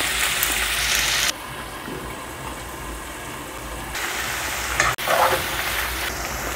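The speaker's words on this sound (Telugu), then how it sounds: "ఆనియన్స్ టమాటాని ఇలా దోరగా దగ్గరగా వేయించుకోండి." Onions and tomatoes frying together in a pan for egg biryani, giving a steady close sizzle with occasional stirring scrapes and a short clatter near the end, with no talk.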